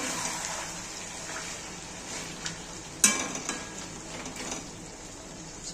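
Chicken kosha sautéing in a pan, a steady sizzle of frying with scraping stirring strokes and a sharp clank of the spoon midway, no talk.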